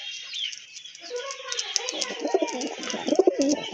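A male pure white pigeon coos in a few rolling, throaty bursts, close and clear, after quieter rustling at the start.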